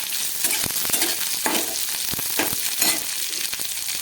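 Ginger pieces frying in a pan on high flame, a constant bright sizzle with repeated soft stirring scrapes at uneven intervals, close and with no one speaking.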